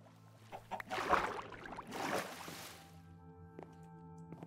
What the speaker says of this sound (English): Come on, chicken.